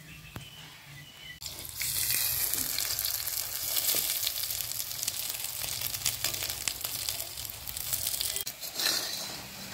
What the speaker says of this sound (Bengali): বড়াটা ভাজা হয়ে গেছে, এখন উঠায় নেব।